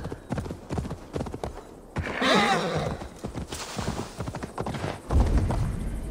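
A horse in Assassin's Creed Valhalla, in the town of Grimsby, clops along with steady hoofbeats, then gives a loud whinny partway through, with a snort and a low thump near the end, set against game ambience.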